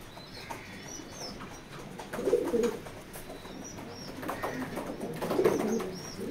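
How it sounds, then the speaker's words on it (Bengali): A racing pigeon coos in soft, low, rounded phrases at close range, with two louder bursts of cooing over a quiet room and faint chirps from other birds. "এটা রানিং কবুতর।"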